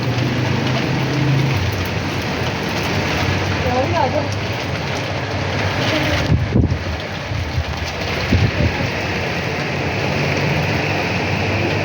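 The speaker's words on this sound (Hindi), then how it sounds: "अब तो बहुत ही तेज़ बारिश हो रही है, बहुत तेज़ बारिश हो रही है।" Heavy rain pours down in Lahore, a dense, steady hiss of rain and wind gusts rushing against the microphone throughout, loud and unbroken, with a few faint knocks.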